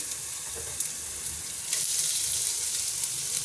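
Lots of garlic frying in oil for prawn adobo, a steady soft sizzle with faint crackles, close by, slightly louder after a brief pause.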